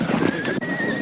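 A horse whinnies close and loud in a short burst, a steady high neigh that stays bright over a rough, breathy body with no voices alongside it.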